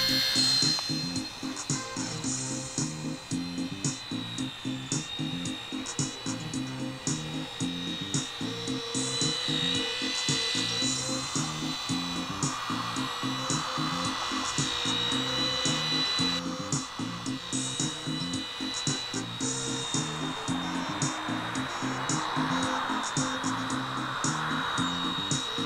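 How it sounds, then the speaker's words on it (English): A Blade mSR RC micro helicopter hovers and flies on a single main blade with no tail rotor, producing a steady, continuous high-pitched electric whine with a fast buzzing pulse, close and unbroken throughout. "now let's try it with one blade and no tail rotor."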